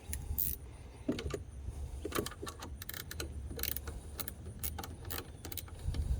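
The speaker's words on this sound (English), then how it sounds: "Let's work these screws out." Screws being worked out of the side mirror mount on a 2011 Mazda CX-9 during a mirror replacement done without removing the door panel: irregular close metallic clicks and rattles over a steady low hum.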